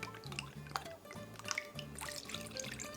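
Limoncello and water are poured into a bowl while making tiramisu, giving a steady trickling, splashing stream with small drips, close up and fairly quiet throughout.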